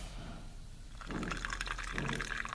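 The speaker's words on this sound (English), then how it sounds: "We wear the gas mask, and we pour the pesticide in." In The Cat Lady video game, pesticide is poured into a container: a liquid gurgling splash starts after a quiet second and continues as a steady pour with a brief second surge, heard alone at moderate loudness.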